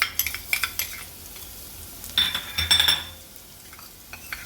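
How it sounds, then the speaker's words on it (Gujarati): Garlic goes into hot oil for Manchurian, giving a crackling sizzle alongside several metallic clinks and scrapes of a spoon against the pan, with a louder burst in the middle and no talking. "તેલ ગરમ થઈ ગયું તો આપણે લસણ નાખીશું"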